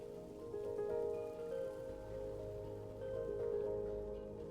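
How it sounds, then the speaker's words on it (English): Rain falls in a Minecraft modpack game as a steady, soft hiss of drops. A low rumble joins partway through, and there is no talk. "And now it's raining."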